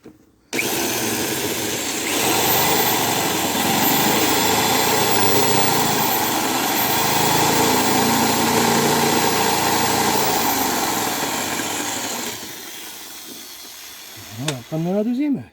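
A washing machine motor removed for dismantling runs at low speed on a bench, giving a steady close whirring hum for about twelve seconds before winding down, followed by a short scrape.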